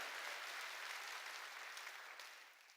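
A church congregation claps during a sermon, a faint, distant spread of clapping that thins and fades toward the end.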